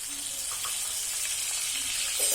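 Onion paste hisses and sizzles steadily in a hot pan as it is added for chickpea chole curry. The frying noise is a constant, fairly loud wash.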